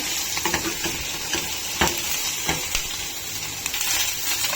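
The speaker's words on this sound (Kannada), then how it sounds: "ನೋಡಿ, ಇದು ಚೆನ್ನಾಗಿ ಫ್ರೈ ಆಗಬೇಕು." A breakfast mixture with low-fat paneer fries in a pan, hissing and sizzling steadily at close range while a spatula stirs it in scattered scrapes.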